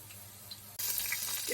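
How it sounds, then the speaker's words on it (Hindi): Water pours into a cooking pot of spiced oil and whole garam masala for chole pulao, a sudden bright splashing rush that starts partway through and continues steadily. "इसमें जाएगा जी पानी"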